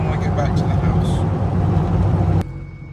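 A 6.0 Powerstroke diesel truck driving, a loud close low rumble from the cab that runs steadily, then drops off abruptly near the end.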